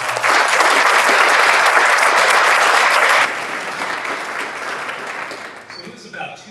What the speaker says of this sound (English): How about if we give them a round of applause?